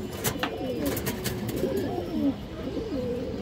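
Large, high-quality pigeons at a seller's loft coo in repeated soft, rolling calls, close by and unaccompanied by speech.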